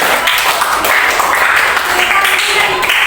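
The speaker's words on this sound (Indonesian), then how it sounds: "Oke, berikan tepuk tangan dulu" A classroom of students claps together in a loud, continuous wash, with scattered voices mixed in throughout.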